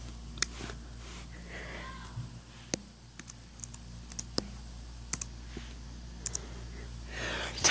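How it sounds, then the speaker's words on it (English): Keys tapped on a school computer keyboard, quiet scattered clicks in irregular bursts over a steady low hum, with a louder cluster of presses at the end. "Let me type in the web."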